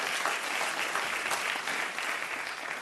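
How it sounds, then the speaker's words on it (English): Sustained applause from a conference audience at a World Bank land rights event, steady and fairly loud throughout with no speech over it. "thank you for the applause"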